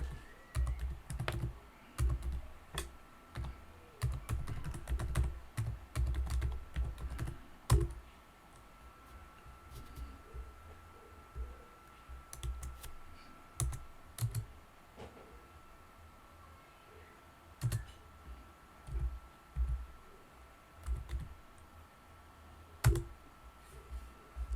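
Typing on a computer keyboard while entering a server address into a Mitel MiVB server manager login, with close, irregular bursts of clicky keystrokes separated by pauses and no talking.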